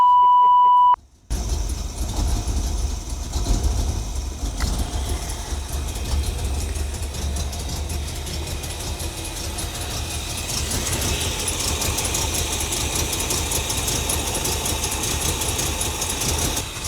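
A Datsun with a swapped engine turns over and settles into a steady low rumbling idle that continues throughout, close and fairly loud.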